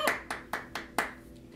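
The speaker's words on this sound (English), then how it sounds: "Give yourselves a big clap" Children clap their hands during an Orff music lesson: five crisp, evenly spaced claps, close and fairly quiet, with nothing else heard between them.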